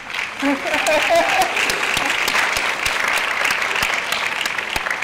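High school senior awards audience applauds the COVID-era graduating class, dense continuous clapping from a large crowd filling the hall, with a voice briefly speaking over the start.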